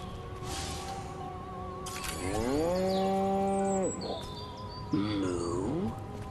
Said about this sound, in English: Again with the moo? I think these lactating bovoids are trying to fool us.